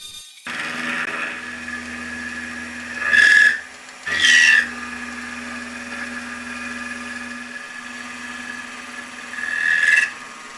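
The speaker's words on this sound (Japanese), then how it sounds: "先にドリルで下穴を開けておきます" A drill bores pilot holes into a metal engine part for a Honda Monkey four-cylinder conversion, a steady motor hum broken by three short, loud grinding bursts as the bit bites into the metal.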